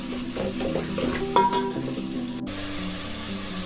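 Tomatoes for sambar sauté in a pan with a steady low sizzle, a spoon stirring and scraping now and then, plus one brief sharp clink near the middle.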